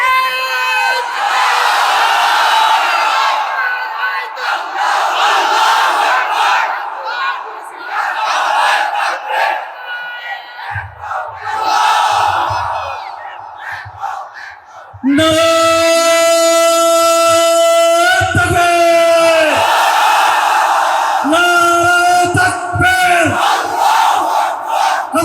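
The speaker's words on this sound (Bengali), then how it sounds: "তাকবীর ধ্বনি দাও" A large crowd at an Islamic sermon in Mirpur shouts the takbir chant in loud, sustained unison calls that swell and repeat in waves, filling the space with massed voices.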